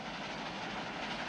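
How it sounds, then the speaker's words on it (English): A steady, faint rumbling of train wheels on rails, continuous and even with no talk, heard from inside a moving train. "The chugga-chugga of the train wheels is making Elmo feel sleepy."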